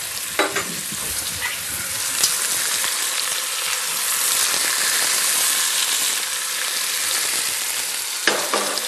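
Flour-dredged meat sears in a hot pan, giving a loud, continuous close sizzle with a few sharp clatters of a spatula turning the pieces, no voices.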